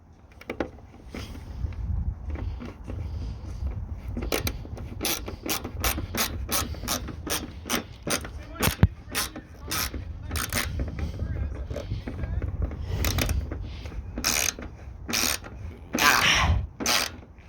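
A hand ratchet tightens bolts on a Chrysler 300 bumper during a bumper swap. Close, crisp runs of rapid clicks repeat in bursts across the clip, over faint background noise and some low, indistinct voice.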